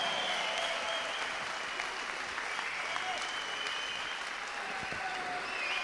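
An audience at a boxing event applauds steadily after the fight, a dense, even wash of clapping heard at a moderate distance, with a few whistles and faint voices mixed in.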